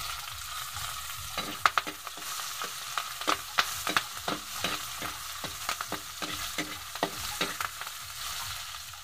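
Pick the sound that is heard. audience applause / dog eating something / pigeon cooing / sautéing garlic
sautéing garlic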